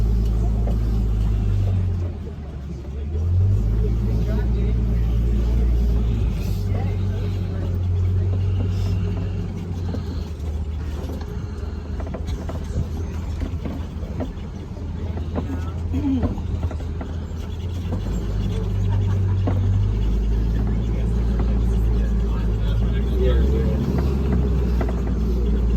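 A very large safari truck driving on the Kilimanjaro Safari ride at Animal Kingdom: a steady, loud low engine rumble runs throughout, with a guide talking over it.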